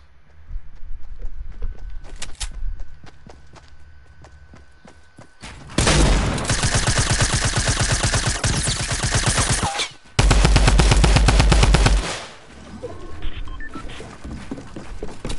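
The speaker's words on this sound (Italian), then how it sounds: "Ma quanti colpi gli devo sparare a questo?" Bursts of rapid automatic gunfire from a first-person shooter game, loud and dense, coming in two long sustained volleys with quieter gaps of scattered shots between.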